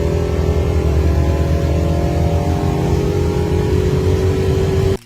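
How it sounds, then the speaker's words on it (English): Deep, loud rumbling engine of a 1969 Dodge Charger 500 with a Hemi V8, holding a steady throbbing idle-to-rev note close by before cutting off abruptly. "The 1969 Dodge Charger 500 with the Hemi."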